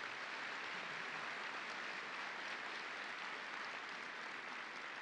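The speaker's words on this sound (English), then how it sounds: "I'm going to tell him about the spontaneous applause before I even finish" Dense, continuous applause from a large crowd at a police conference in Orlando, a steady even roar of many hands held throughout, heard at a distance and fairly quiet, with no speech on top.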